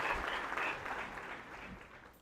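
A church congregation applauding the Lord at the close of a prayer, a soft, somewhat distant patter of many hands that fades toward the end.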